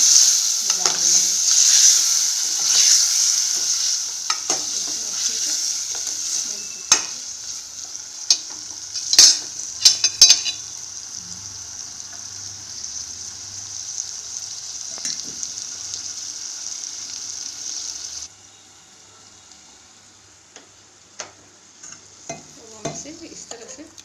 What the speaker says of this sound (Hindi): ज़्यादा फ्राई नहीं करना है, थोड़ा सा तेल में हम इसको इस तरह से मिला देंगे